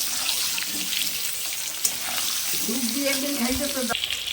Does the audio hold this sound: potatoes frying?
yes